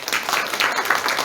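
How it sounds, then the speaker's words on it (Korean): A church congregation claps together in a brief burst of applause, a dense, even patter of many hands close by. "우리 유엔이하고 주한이를 위해서 박수 한번 하겠습니다"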